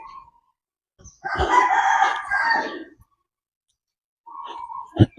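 A rooster crows once, loud and close, a long strained call lasting a couple of seconds, followed by quieter clucking bits afterward.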